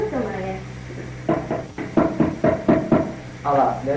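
Several firm knocks on a wooden door, an irregular series of dull thumps close by, with people talking before and after in a dramatized scene.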